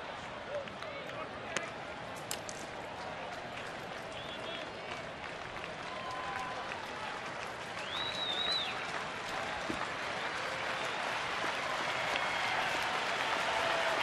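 A sold-out baseball stadium crowd of more than 44,000 keeps up a broad, distant wash of applause and cheering that swells toward the end, while a commentator talks over it.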